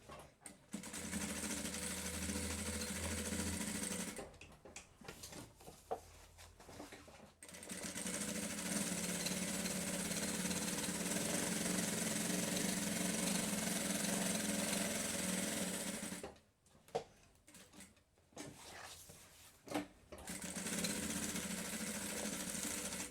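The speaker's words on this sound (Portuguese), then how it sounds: "agora iremos fazer a costurinha aqui de segurança ao redor" A sewing machine runs in long continuous bursts, stitching a safety seam around a lunch bag, with pauses and faint handling noises between runs.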